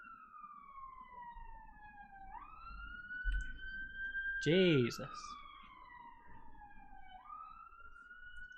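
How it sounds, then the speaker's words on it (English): A wailing emergency siren sweeps up and down steadily outside, fairly loud and continuous, with a second siren tone joining near the middle; a voice briefly exclaims over it. "I do not appreciate the level of sirens whilst I'm recording."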